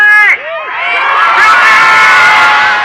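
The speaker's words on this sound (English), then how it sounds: "A crowd of several hundred people that had gathered outside a fortified Hennepin County courthouse erupted in cheers when the verdict was announced" Several hundred people gathered outside a fortified Hennepin County courthouse erupt in loud, sustained cheering, with whoops and shouts rising over a dense crowd roar after a brief dip near the start.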